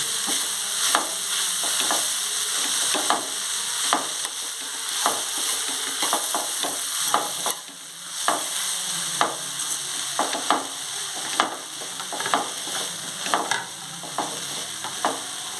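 Grated yellow pumpkin fries on low flame in a pan for pumpkin halwa, a steady soft sizzle with regular spatula scrapes and taps recurring every second or so.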